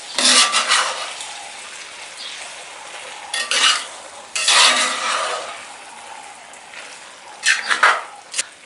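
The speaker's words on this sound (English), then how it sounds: "Now I'm stirring this in." Chopped peanuts stirred into a simmering veggie stew with ginger and whole chili, giving a few bursts of scraping, clinking spoon-against-pot stirring over a soft, steady sizzle.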